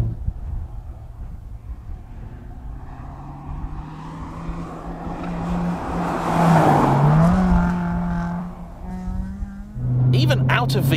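A Honda FN2 Civic Type R Mugen engine revs under throttle, its pitch sweeping up, easing off, then snapping back with a sharp rev burst at the end, loud and close.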